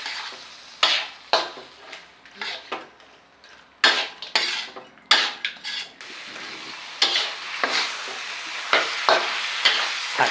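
Fresh shrimp stir-fried in a pan for a southern Thai stink-bean and shrimp-paste dish, with a steady sizzle broken by repeated loud scraping and clattering strokes of a utensil against the pan, close and without talk.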